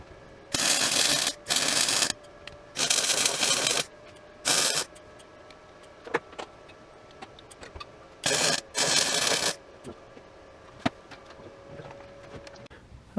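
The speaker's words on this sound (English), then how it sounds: "I'm going to hop in here and just weld that all up" Welding on a Nissan S13 convertible comes in several loud crackling bursts of a second or so each, separated by quiet gaps with faint clicks and taps.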